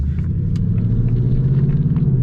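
A 2024 Ford Mustang GT's V8 rumbles steadily while driving, a deep, close, pulsing drone heard from inside the car with faint light ticks above it and no talking.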